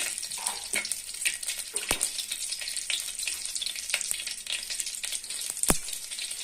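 Curry leaves and dried red chillies sizzle and crackle in hot oil with cumin and mustard seeds for ridge gourd chutney, a steady close frying hiss broken by a few sharp pops, with no voices.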